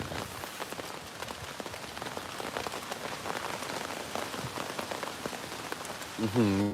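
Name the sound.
light drizzle rain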